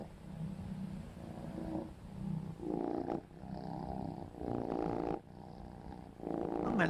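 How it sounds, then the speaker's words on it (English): A cat purring loudly and close, a rough continuous rumble pulsing in steady in-and-out breaths for several seconds, with no talk over it. "That cat is purring so loud."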